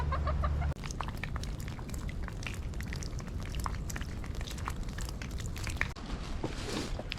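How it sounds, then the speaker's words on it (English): Backyard chickens cluck in a coop, a steady stream of close, busy fowl calls and rustling that continues throughout with no talking. "Come hang out with me and my chickens"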